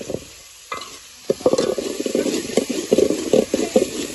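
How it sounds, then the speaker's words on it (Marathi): Chicken masala frying in oil in a pan is stirred, giving a steady sizzle broken by scraping spoon strokes and clinks, loud and close after a quieter opening. "आता बबलू हलवून घेत आहे."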